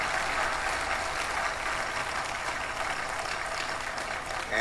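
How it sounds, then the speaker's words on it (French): A church congregation applauding and cheering for the Lord Jesus, a steady loud wash of clapping with a few voices mixed in, sustained throughout. "nous devons acclamer très fort pour le Seigneur Jésus"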